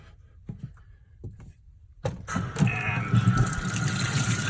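A tap starts after two seconds of quiet handling, and water runs steadily over freshly dyed fabric being rinsed of excess dye, splashing loudly and close.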